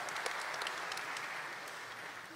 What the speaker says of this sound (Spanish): Aplauso a Edna, gracias.